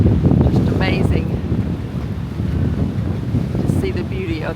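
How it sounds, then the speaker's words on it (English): Strong wind buffets the microphone outdoors by the water, with waves splashing against a wall in the background; the roar is steady and loud throughout while someone talks over it. "look at those waves splashing against the wall there. See how windy it is out here"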